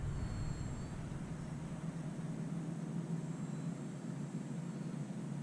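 HobbyZone Mini Apprentice RC airplane flying over a deck, a steady distant motor drone with a faint whine held evenly throughout, no talking.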